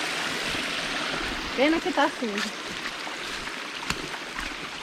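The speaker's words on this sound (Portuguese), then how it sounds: "Aí eu disse que aí é a primeira cachoeira" Steady rushing water from a waterfall in the Amazonas rainforest, a continuous broadband roar close by, with a person speaking briefly over it midway.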